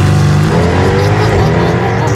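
Porsche GTS engine tuned from 510 to 585 horsepower, heard as a loud, dense, close roar that holds steady across a short burst, with speech mixed in.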